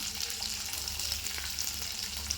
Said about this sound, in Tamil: வெங்காயம் பூண்டெல்லாம் பாதி வதங்கி வந்துருச்சு.